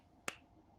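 A single sharp hand clap, close and fairly quiet, with a brief bright burst and nothing else around it.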